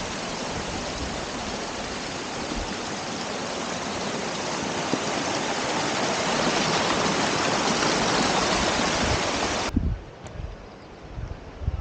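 A low-flowing mountain stream on the trail from La Besurta toward Tuc de Mulleres in the Pyrenees gives a steady, close broadband rush of water that stays even for nearly ten seconds, then drops away abruptly near the end.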